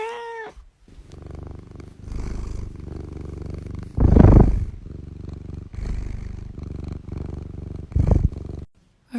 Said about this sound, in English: that meow was kind of weird